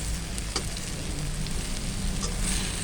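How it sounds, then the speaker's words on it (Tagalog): Steady crackling sizzle of banana frying in hot oil, continuous and fairly close, with occasional sharper pops. "Prituhin ko lang siya ng konti."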